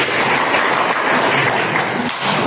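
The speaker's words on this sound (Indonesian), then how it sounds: "Oke, tepuk tangan untuk Mas Gamal." A classroom full of students claps steadily, dense, even applause filling the room at close range with no pauses.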